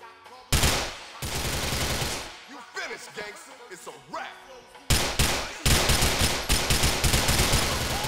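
Uzi submachine gun fire in GTA 4 rips out in loud rapid bursts, the first burst followed by a lull of scattered game sounds, then several more sustained bursts in close succession toward the end.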